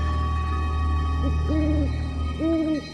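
An owl hoots in short paired calls, two separate bursts a second apart, standing out over a steady low droning hum of forest ambience.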